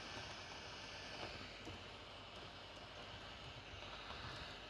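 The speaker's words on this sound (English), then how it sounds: "my computer is really spinning up" A desktop computer's cooling fan spins up under heavy load while antivirus scanning code runs, giving a steady, close whooshing whir that holds level throughout with no talking.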